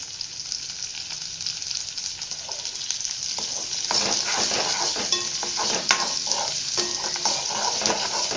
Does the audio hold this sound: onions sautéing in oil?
yes